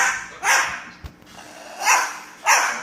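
A bird barks like a dog in three loud, close bursts separated by short pauses, with a brief click in between; no people speak.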